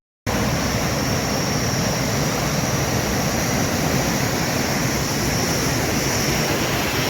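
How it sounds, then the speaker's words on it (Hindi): Water flows steadily along a canal beside a road under a cool breeze, a constant broadband rush that stays loud and unbroken throughout, with no voices. "एक बहता हुआ पानी, ठंडी हवा, और आपको भी ये पानी की आवाज़ सुनाता"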